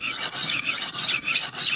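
Knife edge stroked on a Rolling Stone Pro sharpener at 15 degrees with 360 grit, a bright rasping scrape repeating in about six quick, even passes, close and with no voices.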